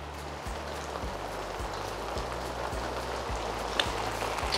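Steady rain falls on a golf course, an even, close hiss of drops across the whole stretch, with a few faint low thumps beneath it and no voices.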